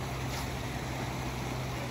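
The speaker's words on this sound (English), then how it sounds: "Waterfall's just down there." Tianjara Falls pours down a short distance away, heard as an even, unbroken rush of water that stays soft and constant throughout.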